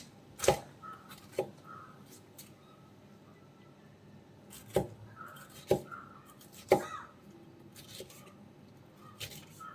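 A knife chops pineapple, core included, into small pieces for a pineapple pickle, giving a handful of sharp, sparse cutting knocks spread irregularly through a quiet kitchen.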